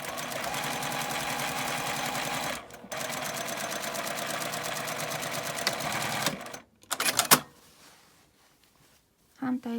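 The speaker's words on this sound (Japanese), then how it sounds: "上から1センチのところにミシンをかけます" A sewing machine stitches fabric for a lined drawstring bag in a long steady run with a brief pause, then stops. A few short bursts and handling noises follow in a quieter stretch.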